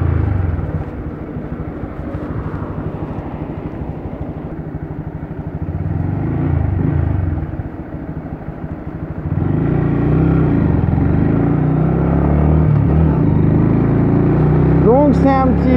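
A Honda MSX 125 motorcycle revs and accelerates up close, its engine drone rising and surging louder after a brief dip, with someone talking over part of it and a quick whine of rising pitch at the very end.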